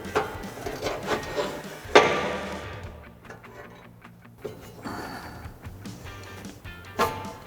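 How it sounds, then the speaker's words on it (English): A pry bar forces a rubber exhaust hanger off its mount under a 2009-2018 RAM 1500 5.7L pickup, giving close, uneven scraping and creaking with a sharp clunk near two seconds and a few softer knocks after. "Take my pry bar, get it up in here, and just push this hanger off here."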